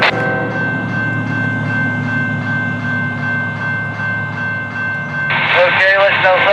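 Locomotive 3399 pulls a train past on the line between Summerfield and Plant City, a steady loud rumble with a sustained whining tone that turns noisier and more clattering near the end.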